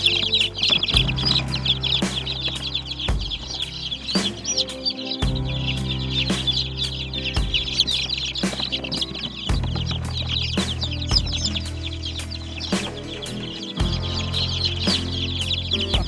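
Chickens cluck on a farm, many close, busy calls running steadily over a dense, constant background with sharp repeated clicks and strong low rumbling throughout.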